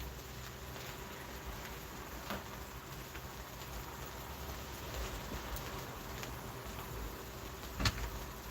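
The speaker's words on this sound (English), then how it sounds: "Even with the rain. It's coming out a little hard." Rain comes down hard outdoors as a continuous, even hiss of patter, fairly faint and unbroken apart from a brief tap near the end.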